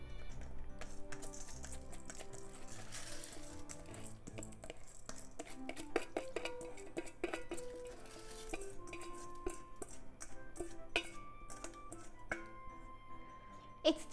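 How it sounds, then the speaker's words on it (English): Washed rice is poured into a cooking pot, giving a quiet run of light grainy rattles and small clinks of pot and utensil, close and clear with no talking. "Let's put the rice in the pot here."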